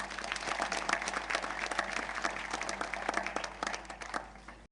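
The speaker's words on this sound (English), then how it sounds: "Please give them a round of applause." An audience applauds steadily at a business sponsorship ceremony, a dense wash of many hands clapping close and evenly for several seconds with no speech over it.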